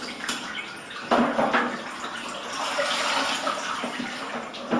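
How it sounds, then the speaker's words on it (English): Water splashes and drips as a wet mop is wrung out after cleaning a tiled floor treated with Tile Safe, in close, irregular trickling bursts with no talk. "You can wring the mop out"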